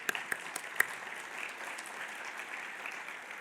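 An audience at a business public policy forum and awards presentation claps, a soft, distant patter of applause that starts with a few louder claps and then settles into a steady, faint spread of hands.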